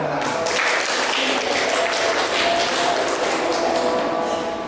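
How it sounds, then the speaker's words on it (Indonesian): Children in a classroom clapping together at the start of a lesson on social groups, a steady wash of many hands that stays even and fairly close throughout, with faint voices under it. "sama-sama tepuk tangan"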